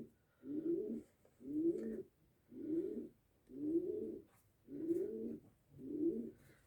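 Pigeons, recently acquired platinum and white-tailed tumbler pigeons, coo in six steady, evenly spaced phrases, each a soft low throaty roll with short pauses between, close by and fairly quiet with no talking.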